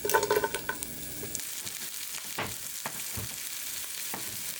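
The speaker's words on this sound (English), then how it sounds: "Once it's sizzling, I will add some chopped ham." Bacon crackles and sizzles in a hot pan, with a busy spatter at first settling into a steady frying hiss and occasional stirring.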